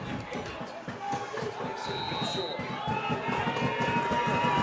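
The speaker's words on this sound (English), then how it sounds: "That's a loud crowd here in Lewisburg." Loud home crowd at a Louisburg Wildcats high school football game against the Spring Hill Broncos, a steady roar of voices with sharp transients and a whistle-like tone, continuous and close throughout, under talk.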